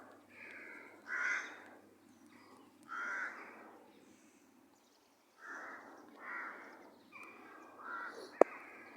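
Crows squabbling outdoors, trading several harsh caws in bursts with short gaps between them, fairly distant and alone, ending with a sharp click.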